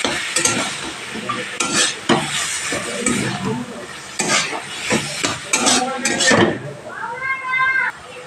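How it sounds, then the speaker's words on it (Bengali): Taro leaves cooking with spices, turmeric and salt in a pan for a Bengali vegetarian kochu shak, with stirring scrapes and soft sizzling throughout and a voice talking over parts of it. "প্রত্যেকটা মশলা দিয়ে ভালোভাবে কষিয়ে নেবো 2-3 মিনিট ধরে।"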